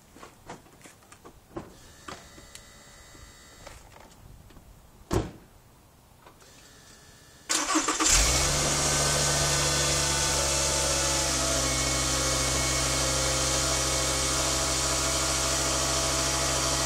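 A Volkswagen Jetta that burns oil starts with a short crank and catches about halfway through, after some quiet clicks and a clunk, then settles into a loud, steady idle with a constant low hum.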